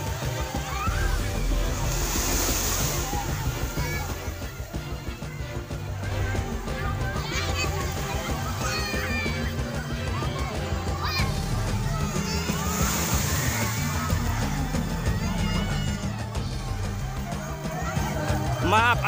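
Waves wash and slosh steadily at Koroeng Beach on a crowded morning, with children shouting and playing and many visitors chattering close by over the surf.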